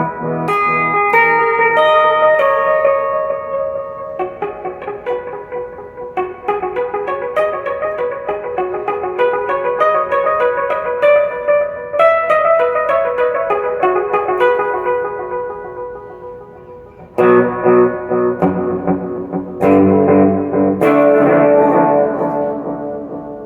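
Electric guitar chords and notes through delay and reverb pedals ring out with long echoing repeats and a washy reverb tail, playing continuously and loudly with no talking.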